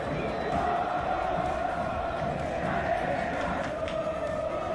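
Belgrano away supporters chanting at the Couto Pereira football stadium, a dense, continuous roar of massed voices in a steady chant filling the whole stretch.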